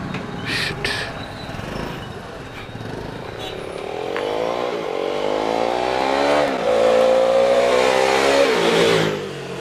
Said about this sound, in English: today I am riding a Royal Enfield Bullet.